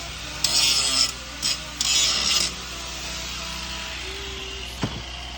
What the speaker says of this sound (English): Doing some grinding and welding.